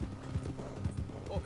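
Horse hooves clip-clopping along a road in the video game Red Dead Redemption II, a few soft irregular hoofbeats under continuous game sound and a low voice.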